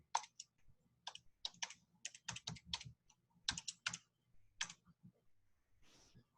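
Typing on a computer keyboard to enter a username and password, heard as irregular bursts of close, crisp key clicks with short pauses between them, with no one talking.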